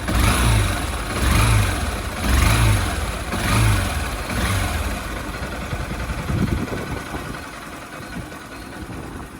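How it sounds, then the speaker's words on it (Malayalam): A Honda SP 160 motorcycle engine runs at close range, revving in three or four rhythmic pulses before settling into a steadier, softer idle with no talk over it. "ഇതിൻ്റെ ഒരു എൻജിൻ സൗണ്ട് നമുക്കൊന്ന് കേട്ടു നോക്കാം."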